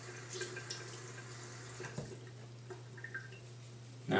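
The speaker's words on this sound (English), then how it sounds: "I just squeeze out the water" Water drips and trickles from a wet shaving brush being squeezed over a sink, a faint, close, intermittent patter against a steady low hum, ending in a louder splash of running water.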